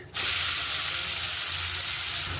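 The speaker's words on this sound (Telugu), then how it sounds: "బ్రౌన్ కలర్ వచ్చేంత వరకు వేయించుకోవాలండి" Chopped onions and cumin seeds sizzle steadily in three spoons of hot oil in a pan, a loud, dense hiss that bursts in at the start and holds without a break.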